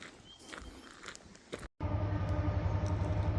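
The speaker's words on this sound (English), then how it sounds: "So here comes a freight train." A freight train approaches as a low continuous rumble with a steady engine drone that swells after a brief cut, preceded by quieter outdoor noise and footsteps.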